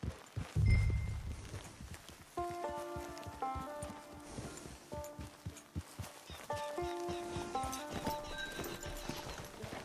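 A horse clip-clops at a walk along a dirt path near a camp in the Red Dead Redemption 2 video game, steady hoofbeats under soft musical tones, with a snort near the start.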